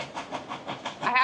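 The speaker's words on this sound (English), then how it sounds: "listen to the engine that she pulls from up in the mountain" Steam locomotive pulling a tourist train up a mountain at Dollywood, with a steady rhythmic chuffing of repeated bursts close by, building louder toward the end.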